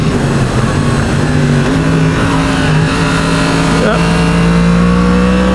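A Yamaha MT-10 SP motorcycle engine pulls steadily under power, a loud, continuous tone that climbs slightly in pitch, mixed with strong rushing wind noise.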